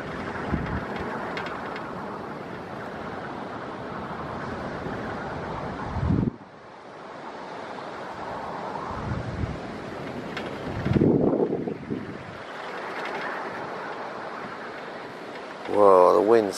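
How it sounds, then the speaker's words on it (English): Strong, gusty storm wind buffets the microphone near a wind turbine. It gives a loud, roaring rumble that swells and drops, and a voice breaks in briefly now and then. "Whoa, the wind's so choppy."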